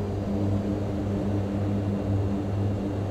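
Propeller aircraft engine in Microsoft Flight Simulator 2024 throttling up, a steady droning hum with strong low harmonics holding loud and even throughout, with no voices.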